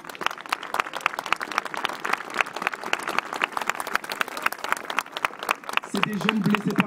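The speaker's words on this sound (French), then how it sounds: "Merci de les applaudir." A crowd at an anti-racism march in France applauds, with dense, steady clapping carrying on for several seconds over a murmur of voices.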